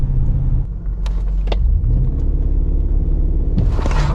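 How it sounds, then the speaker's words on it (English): A car launches hard from a standstill with a loud, deep engine rumble that holds steady, then surges into a brighter, harsher roar near the end, with no voices. "maybe one launch and just see how it pulls from a dig"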